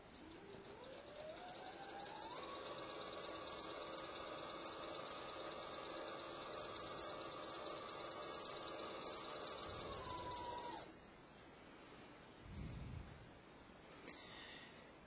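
A sewing machine runs a long continuous stitching pass with a twin needle on a fabric panel for textured apparel, a steady loud motor whir that rises at the start, holds, then stops, followed by a few soft handling clunks.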